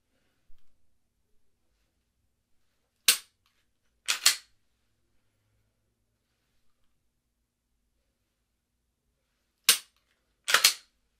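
Pistol shots fired during a drill on three or more targets: two quick pairs of sharp, loud cracks, one pair near the start and another about six seconds later, with silence between.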